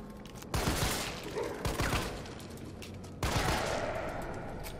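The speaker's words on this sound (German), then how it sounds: "Sechs normale Schüsse und dann sind sie auf jeden Fall weg." Bursts of gunfire from Resident Evil 3 Remake, loud shots cracking out at least three times over a steady game background, with no talk.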